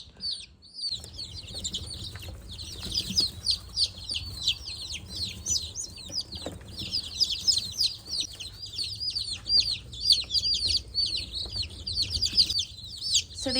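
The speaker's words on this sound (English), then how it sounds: "So these are the Lavender Wyandottes I'm putting in right now. And these are the cochins." Many Lavender Wyandotte and cochin chicks, some bantam, peep continuously in a brooder as they are put in, a dense, high chorus of overlapping chirps with occasional handling noise and no talking.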